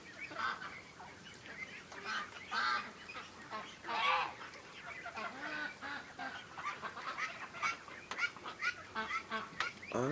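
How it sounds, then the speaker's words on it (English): A big flock of ducks calls from the water at the mouth of a creek, a dense chorus of overlapping quacks and honks that stays loud and continuous, with bursts of sharper calls throughout. "I watched this big group of ducks swimming towards the mouth of the creek"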